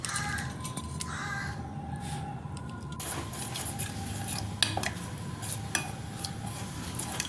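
Chocolate and butter stirred together in a pan as they melt for brownie batter, a steady scraping and clinking of a utensil against the pan with a few sharper taps, close and alone.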